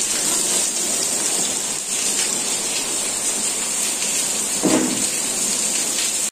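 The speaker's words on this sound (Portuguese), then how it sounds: "E tá chovendo bastante" Heavy rain pours down in a steady, loud hiss on surfaces outdoors, with a brief low rumble partway through.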